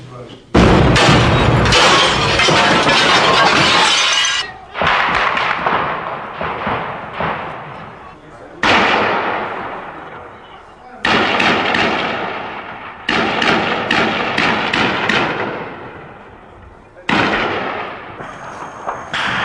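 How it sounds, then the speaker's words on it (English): Loud bursts of gunfire from an exchange of sniper and return fire in parkland during the 1992 Sarajevo war, coming in repeated sharp, heavy blasts with ringing decay, close and very loud, several volleys across the stretch. "Soldiers rushed to answer the incoming sniper fire. It was scary and very noisy."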